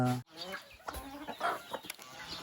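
Chickens clucking in a backyard pen where young chicks are kept, with several birds calling in short, overlapping bursts at close range, with no talk.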